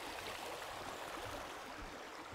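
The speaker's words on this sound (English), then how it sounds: "I'm pretty excited that we are approaching the Trout Run Creek." Trout Run Creek in Whitewater State Park, Minnesota, flowing steadily with a broad, even rush and gurgle of water, close and continuous, with no voices.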